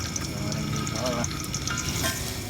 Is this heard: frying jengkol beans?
yes